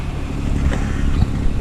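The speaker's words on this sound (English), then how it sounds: "I'm sure you can hear the noise of the motor going" A sailboat's motor drones steadily underway, a low continuous rumble mixed with wind noise buffeting the microphone, with no voices.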